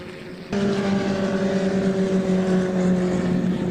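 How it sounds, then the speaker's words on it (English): Historic Formula Ford racing cars, including a Merlin Mark 20A, at Donington Park; engine noise swells suddenly and holds as a loud, steady high-revving drone of cars passing close by. "Alistair Littlewood at the back of this battle in his Merlin Mark 20A."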